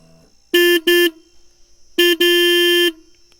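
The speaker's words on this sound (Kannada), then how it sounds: "ಎಕ್ಸ್ಪಲ್ಸ್ಗೆ ಹಾರ್ನ್ ನೋಡೋಣ ಬನ್ನಿ" A Hero XPulse 200 4V Pro motorcycle horn beeps twice quickly, then once briefly, then holds a longer blast, loud and close with a flat electric tone.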